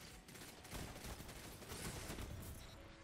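Sustained automatic gunfire in the video game Destiny 2, a dense, loud burst of rapid shots filling a few seconds with no speech over it.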